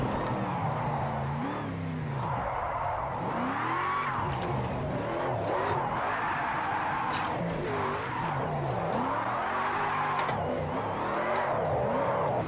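A Ford Mustang RTR drifts in Project Cars 2, its engine revving in rising and falling sweeps while tires screech and skid continuously, loud and close throughout with no talk over it.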